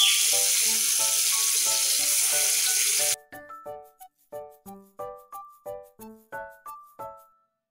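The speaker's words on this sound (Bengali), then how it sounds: "কড়াই গরম হয়েছে, এখন মাছটা দিয়ে দেব।" Tilapia fish sizzles loudly in a hot wok for about three seconds, then the hiss cuts off and a series of rhythmic clattering knocks follows close by.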